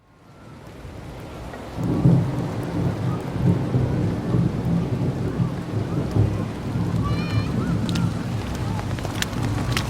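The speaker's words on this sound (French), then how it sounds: "La pluie s'invite" Steady rain pours down with thunder rumbling through it, the downpour thickening after a quiet start and then holding loud and constant, with no voices in it.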